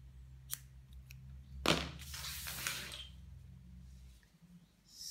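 Scissors snip the crochet yarn close at the end of a granny square, with a quiet click and then one soft, drawn-out cutting sweep in a quiet room.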